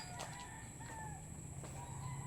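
A rooster crows faintly in the distance over a steady low hum, with other fowl calling softly around it.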